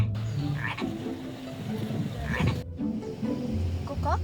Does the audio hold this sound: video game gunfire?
no